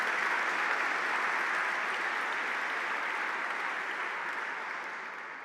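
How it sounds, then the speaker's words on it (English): Dense, steady audience applause at a San Francisco sheriff's swearing-in ceremony, fairly distant and uniform, tapering slightly toward the end. "I'd like to ask for a round of applause for her and her contributions."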